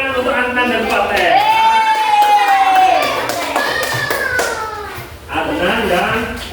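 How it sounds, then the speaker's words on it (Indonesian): A class of children claps for two classmates during an Arabic lesson. Quick claps mix with lively children's voices and a teacher's voice, and a long sung or called-out tone rises over the group partway through. "Beri tepuk tangan untuk Adnan dan Fateh."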